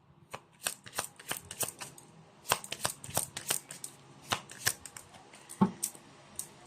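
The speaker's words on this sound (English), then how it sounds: "Let's pull up a fortune card." A deck of fortune cards is shuffled by hand, giving a steady run of crisp riffling flicks and snaps, close and fairly quiet, with no talking.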